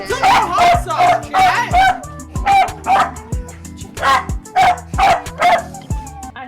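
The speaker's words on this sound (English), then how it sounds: "Piper, why are you still barking?" A dog barks loudly and close by in a fast series of about nine sharp barks, with a voice talking in between.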